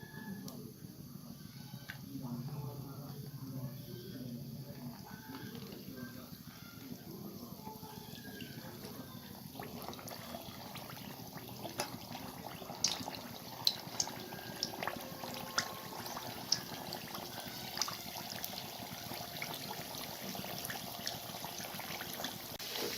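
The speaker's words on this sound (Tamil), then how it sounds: "இப்போ எண்ணெய் காஞ்சிருச்சு, இது எல்லாத்தையும் பொரித்து எடுத்துக்கலாம்." Semolina and coconut sweets deep-frying in hot oil, a soft continuous bubbling and sizzle with occasional sharp crackles and pops, close by, with a person speaking over it at times.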